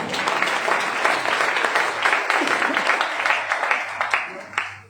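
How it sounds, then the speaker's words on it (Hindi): Audience applause at a Hindi-language business seminar, a steady wash of clapping from a crowd lasting several seconds, with some voices mixed in beneath it. "तो एक बार मुकेश भाई अंबानी के लिए जोरदार तालियां हो जाए।"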